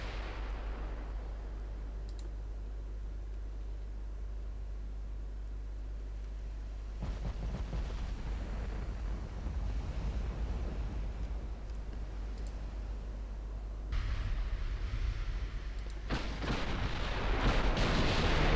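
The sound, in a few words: battlecruiser guns firing HE shells in Ultimate Admiral Dreadnoughts video game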